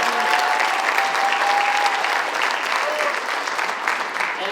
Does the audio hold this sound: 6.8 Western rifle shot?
no